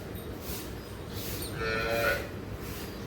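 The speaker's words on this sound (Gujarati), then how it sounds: "અને ઢોર પણ છે મિત્રો" Sheep or goats bleat on a farm near a stable of horses, a few clear cries rising over steady outdoor background noise with no talking.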